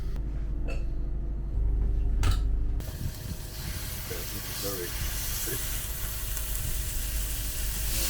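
Steaks sizzling while cooking outdoors, a steady hiss and crackle with mechanical clicks and a low hum early on, continuing evenly to the end, no talking.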